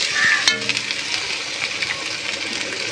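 Onions and spices frying in a pan, a steady close crackling sizzle with a few sharper pops and light stirring scrapes, heard alone without any talk.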